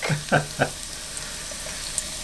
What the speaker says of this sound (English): here's our garlic, lots of garlic, to gently sizzle in the pan